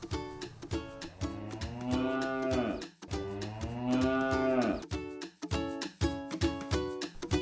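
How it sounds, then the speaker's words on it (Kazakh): A cow moos loudly and close by in several long, drawn-out calls separated by short pauses, with no talking over them. "сиыр мө деп өңірейді."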